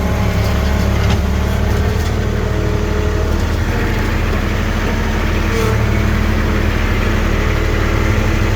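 A compact tractor engine runs steadily nearby, a constant low rumble and chug that neither rises nor fades.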